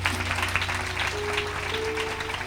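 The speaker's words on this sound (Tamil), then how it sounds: "கைத்தட்டுங்க அந்த தேவனுக்கு." A church congregation clapping together in praise, a dense continuous patter of many hands, steady and moderately loud, with a low hum beneath.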